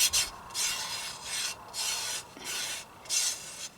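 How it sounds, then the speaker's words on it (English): A fingertip rubs gritty black powder residue across a glass pane, giving repeated dry rasping strokes in a steady back-and-forth rhythm, close and moderately loud with no talking. "Let me rub it through the center of the burn."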